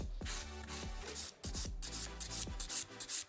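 Acrylic nail being filed and beveled toward the tip, quick repeated close rasping strokes in a steady rhythm with a brief pause partway through.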